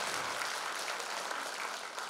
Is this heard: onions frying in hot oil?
no